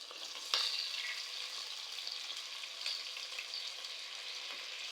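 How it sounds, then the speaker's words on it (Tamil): Onions fry in a pan for a broad bean curry (avarakkai kuzhambu), giving a steady close hiss of sizzling oil with a couple of brief stirring clinks. "இப்போது இந்த வெங்காயம் பொன்னிறமாக நல்லா செவந்து வர்றதுக்கு ஆரம்பிச்சிருச்சு"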